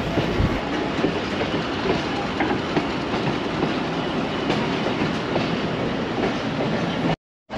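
The Awam Express, a Pakistan Railways passenger train, rumbles loud and close as it approaches Wazirabad Junction, with steady clickety-clack from the wheels that holds throughout and then cuts off abruptly.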